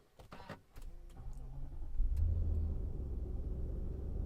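A 2024 Nissan Patrol Warrior's V8 engine cranks and catches, settling into a deep, steady idle rumble heard from inside the vehicle.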